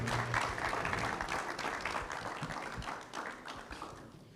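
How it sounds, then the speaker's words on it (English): Audience at a chat event claps for a guest, a soft, fairly distant patter of applause that fades slightly toward the end, without clear speech. "Let's give him a big round of applause,"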